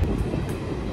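Interior rumble of a passenger train running from Siliguri to Murti, a steady low roar of wheels and carriage with no voices, close and continuous throughout.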